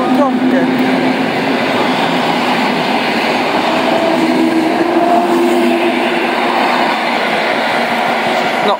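A PR RP1 passenger train pulls out of Rawicz station in the evening, heading toward Leszno; a steady, loud rolling rumble with faint wheel clatter and a humming drone holds throughout, with no talk.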